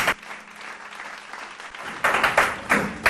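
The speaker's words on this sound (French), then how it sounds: "je vous demande d'applaudir très fort pour Abdoukhad." Quiz show studio audience breaks into applause for contestants, a brief burst of clapping that swells after a quiet moment, moderately loud and close.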